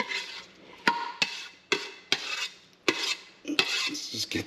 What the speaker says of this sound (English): just bring in the mac and cheese and just get that in the cast iron skillet